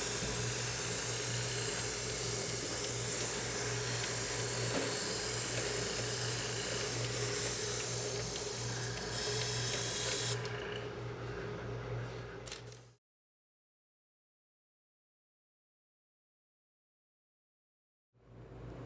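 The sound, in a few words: spray gun spraying cocoa butter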